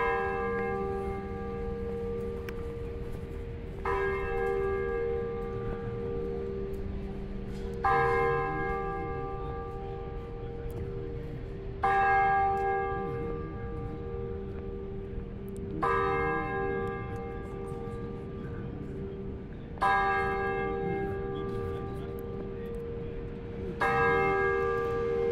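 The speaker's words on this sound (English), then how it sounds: "There's the bell right there." Church bells ring out in Old Montreal, a loud repeating peal with strikes roughly every four seconds, each note leaving a long harmonic hum that hangs over faint outdoor background noise.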